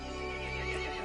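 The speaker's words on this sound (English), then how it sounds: "The horse grew angry and summoned the other monsters." A horse neighs in the Resident Evil Village video game, one brief, loud whinny over a steady low rumble.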